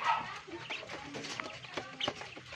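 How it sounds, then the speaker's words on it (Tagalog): Turkeys gobble and cluck close by in a busy, chattering flock, with several overlapping calls. "Pabo yan."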